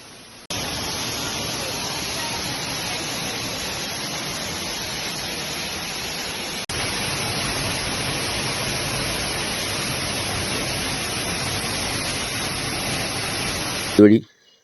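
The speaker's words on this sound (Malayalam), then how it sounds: "ഈ പ്രോപ്പർട്ടിയുടെ വെള്ളം വീഴുന്ന ടൈമിലുള്ള കുറച്ച് വീഡിയോസ് കൂടെ ഞാൻ ഇതിൻ്റെ കൂടെ ഉൾപ്പെടുത്താം" A waterfall at a homestay in Vagamon, Kerala, roars as a dense, steady rush of falling water, loud and close, continuing unbroken before cutting off abruptly at the end.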